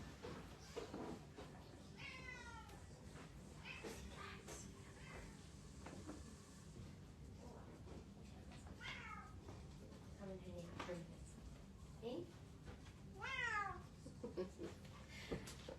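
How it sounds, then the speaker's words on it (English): A cranky cat meowing repeatedly, several short drawn-out meows spread across the clip at moderate distance, with a person talking throughout in a quiet indoor room. "Cranky cat here now."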